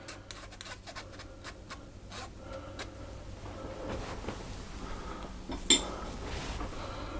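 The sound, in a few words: scraping out the inside of a mixing bowl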